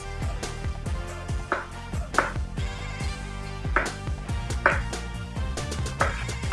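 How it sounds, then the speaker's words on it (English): A knife slicing and chopping a hot pepper on a cutting board, a steady run of close, crisp knocks over a low background hum. "So we're gonna slice it on the side here, guys, and take off the sides."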